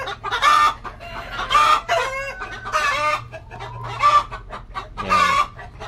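Chickens cluck and squawk in repeated loud bursts, close by, with rhythmic calls spaced every second or so and a low hum in the background.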